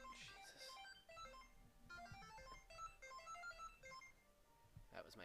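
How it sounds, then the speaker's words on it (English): A mobile phone ringtone plays a bright, repeating electronic melody in short note bursts, fairly faint in the mix, with a voice speaking briefly at moments. "That was my phone. It's incredibly loud."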